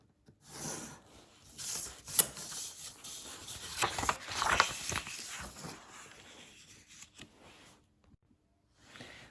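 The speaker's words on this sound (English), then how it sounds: "so I'm just going to rule up that edge so I know" A pencil drawn along a ruler edge on paper while ruling a line for a food van model, soft close scratchy rubbing strokes in a few bursts, fading to quiet at the end.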